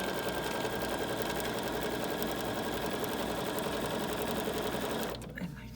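Sewing machine stitching a quarter-inch seam on quilt binding, a steady loud continuous whir running unbroken for about five seconds before stopping abruptly.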